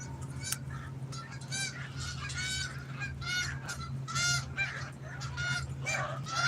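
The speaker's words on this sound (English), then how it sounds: "Something spooked all them geese." A flock of spooked geese honk repeatedly outdoors after rain, loud overlapping calls at mid distance over a steady low hum, with no talk.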